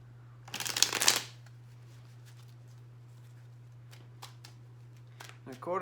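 Tarot cards are shuffled in one brief, crisp riffle near the start, followed by quiet room hum and a few faint card taps.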